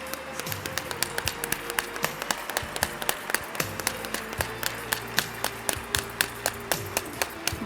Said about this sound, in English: a big round of applause for our respected principals